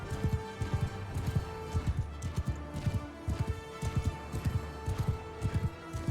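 A horse gallops in the video game Mount & Blade II Bannerlord, its hoofbeats a fast, steady, close rhythm of drumming thuds running without a break and with no talk over them.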